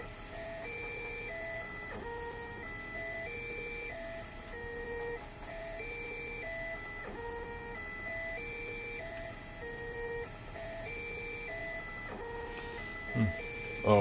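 Printer making fast non-printing moves at 100 mm/s, with stepper motors singing short rising and falling tonal whirs in a rapid repeating pattern over a steady mechanical hum, moderately quiet, ending with a couple of brief knocks.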